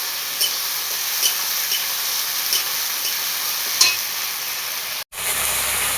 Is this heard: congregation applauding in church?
no